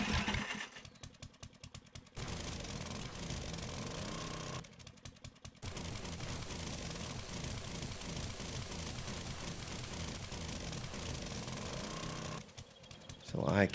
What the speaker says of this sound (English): With this handy dandy auger, it only takes a moment.